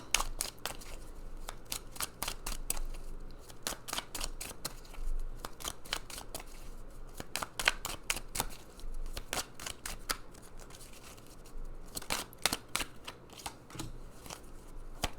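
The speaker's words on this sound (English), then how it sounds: "really good shuffle." A deck of oracle cards is shuffled thoroughly for a long stretch, giving dense, crisp snapping and riffling clicks that come in quick uneven bursts, close and fairly quiet, with no voice.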